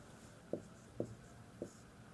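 Pen strokes on a notebook page during a class 10 trigonometry lesson, three short separate scratches about half a second apart, close and quiet over a faint room hush.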